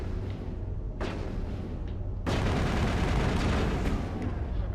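Gunfire in Mass Effect 1, a run of loud, noisy rifle bursts that starts up, pauses briefly, then resumes as a continuous rattling volley.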